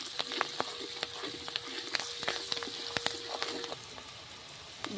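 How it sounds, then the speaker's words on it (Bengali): Green chilli and turmeric frying lightly in oil with salt, a soft, steady crackle of small pops and faint ticks, fairly quiet and close, with no talking. "হালকা করে ভেজে নেব।"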